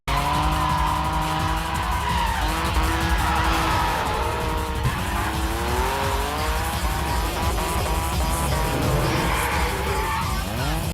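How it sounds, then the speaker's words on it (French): A car drifting in a street race scene from a film, its tires screeching loudly and continuously over a revving engine for the whole stretch, with no talk. "Après une course de drift extrêmement bien filmée"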